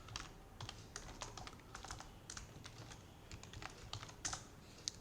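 Fingers type on a computer keyboard in a quick, irregular patter of soft clicks and key taps, faint and close, with no voices.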